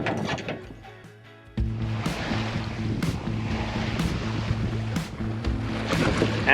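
A sailboat's engine running at sea, a steady low mechanical drone with rhythmic knocking and creaking, starting up after a quiet stretch and continuing to the end with occasional sharp clicks.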